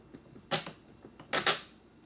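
Faint, sharp metallic clicks and clacks from a bolt being fitted through a ride-on car wheel into a square tube, two brief clusters of ticks in a quiet setting.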